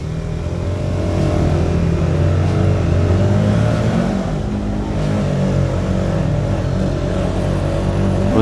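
An Orcal SK01 125cc motorcycle engine accelerates on the road, a loud, continuous near engine drone rising and shifting in pitch with wind rush, no talk over it.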